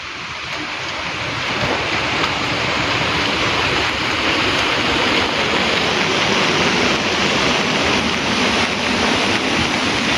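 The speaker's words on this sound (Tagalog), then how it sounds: "dahil malakas ang ulan, kabayan." Heavy rain in Taiwan pours down alongside rushing, collecting water, making a steady, dense roar and hiss that fills the whole clip without any talking.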